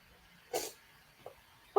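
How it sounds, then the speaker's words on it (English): One person gives a short, sharp sneeze that is close and moderately loud, followed by a small sniff and then the brief start of a voice in a quiet indoor room. "I'm gonna sneeze."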